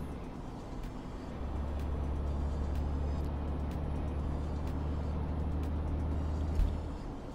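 A Renault Range T truck drives in Euro Truck Simulator 2 on a Deva–Arad route in Romania. The engine gives a steady, low, rumbling drone that holds level for the whole stretch, with a brief bump near the end and no voices.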